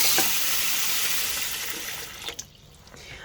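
Cold tap water runs over hot boiled eggs in a pan, a loud, steady hiss and splash that fades toward the end, with a brief clunk just before it quiets.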